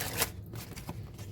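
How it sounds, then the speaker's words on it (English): Slick gilded tarot cards being shuffled, a brief quiet riffle of card edges with a sharp flutter near the start, close and soft, no talking. "Shuffles well, though the cards are a bit slick"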